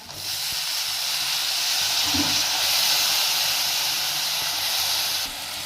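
Spring onion, peas and coriander sizzle steadily in hot oil in a home kitchen pan, a loud, continuous hiss that keeps going with only small shifts in intensity.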